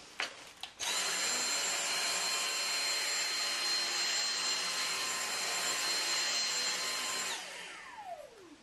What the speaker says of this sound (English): Now we're going to run the vacuum through a few tests.